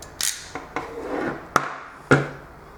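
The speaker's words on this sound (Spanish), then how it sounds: "se mete el cable y se aprieta hasta que el mecanismo libera" A hand crimping tool squeezes a terminal onto a cable, giving several sharp, close mechanical clicks and snaps spaced irregularly, the last ones loudest, as the ratchet tightens and releases.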